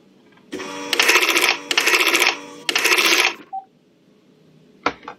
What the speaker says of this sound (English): Sorry guys, the phone rang.